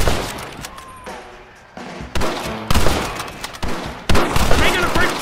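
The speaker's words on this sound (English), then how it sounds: "Open fire!" Gunfire in the video game Red Dead Redemption, a loud burst of repeated shots crackling in several bursts that grow denser toward the end, with voices shouting over it.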